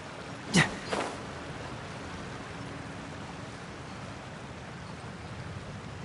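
Rain Cutter ability from the Genshin Impact video game, heard as a sharp burst of two quick transients followed by a steady, hissing rain-like wash that continues evenly at moderate level.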